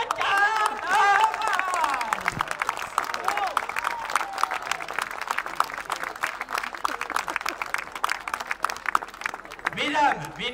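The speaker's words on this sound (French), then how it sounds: "Applaudissez princes et princesses de carnaval." A carnival crowd at Romont in 2017 applauds the royal carnival couple with sustained, thick clapping and some cheering, while a voice speaks briefly at the start and again near the end.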